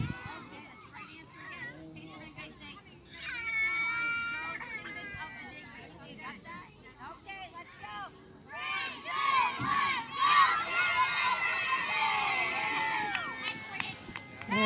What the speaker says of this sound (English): Now they do the little cheer and that's it.